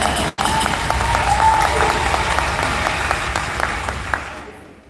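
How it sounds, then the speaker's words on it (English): A convention audience claps steadily in a hall, a dense sustained wash of applause that holds for several seconds after a brief dropout near the start, then slowly thins toward the end. "We have to clap for that."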